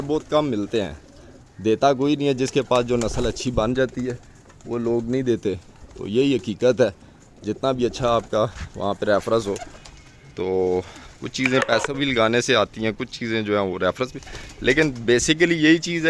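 Pigeons in a breeding loft coo softly and repeatedly in the background while someone talks steadily over them.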